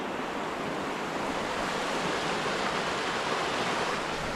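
A powerful waterfall in Wales rushes in a constant, dense roar of churning water, close and loud, with no breaks and no voices.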